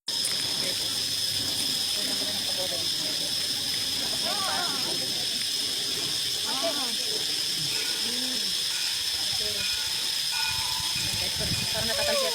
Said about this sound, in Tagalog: Parang natatalsiya kami ng tubig na.